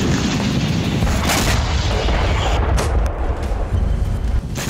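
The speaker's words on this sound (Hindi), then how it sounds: "यूक्रेन का एक ड्रोन खांती मेंसी की गैस पाइपलाइन तक पहुंचने में कामयाब हुआ और फिर यह जोरदार धमाका हुआ।" Drone strike explosion at a gas pipeline in Khanty-Mansi, Russia, a loud sustained roaring rumble with a few sharper booms layered through it, close and continuous without voices.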